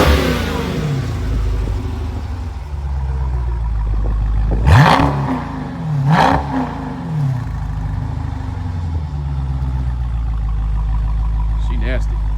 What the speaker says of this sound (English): Let's hear that exhaust too.